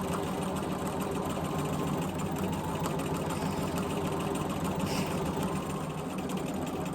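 A sewing machine runs continuously while free-motion quilting a 12 by 12 inch quilt sandwich, a dense, steady mechanical hum with rapid needle chatter, loud and close, no pauses.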